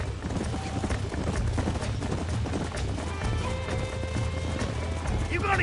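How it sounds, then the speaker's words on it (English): Horses gallop in the Red Dead Redemption video game, their quick clip-clopping hoofbeats running continuously alongside game ambience. A brief whinny rises above them, and voices come and go in the background. "There's the horses!"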